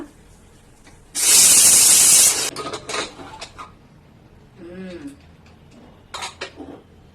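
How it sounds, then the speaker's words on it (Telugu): A pressure cooker lid is opened after cooking chicken haleem, releasing a loud, steady burst of hissing steam for about a second, followed by metallic clanks of the lid and pot, with a voice briefly heard afterward. "ఇంకా నెక్స్ట్ అయితే మనం కుక్కర్ మూత అయితే తీసే టైం వచ్చేసింది అనమాట."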